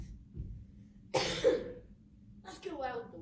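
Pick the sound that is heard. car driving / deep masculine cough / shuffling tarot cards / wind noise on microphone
deep masculine cough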